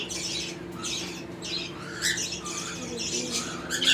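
Several pet bird chicks squawk from a breeding box, a run of harsh, raspy begging calls in short repeated bursts, close and moderately loud over a faint steady hum.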